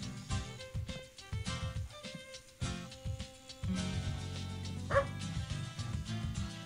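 Miro, an animated dog in a farm video game, gives repeated short barks and yips over bright game music.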